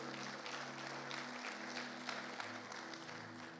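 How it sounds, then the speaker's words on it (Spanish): A church congregation claps for the Lord during a Spanish-language sermon: a steady wash of applause runs throughout, with sustained keyboard chords ringing beneath it. "Démosle un aplauso fuerte al Señor"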